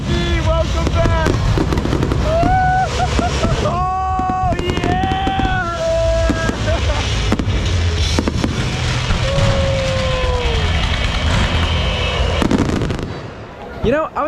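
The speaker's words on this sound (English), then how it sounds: "That fireworks show may have been one of the best I have ever seen." A fireworks show at a theme park in Himeji, Japan crackles and booms continuously and loudly, with whistling rockets rising through the bursts and a crowd cheering and talking throughout.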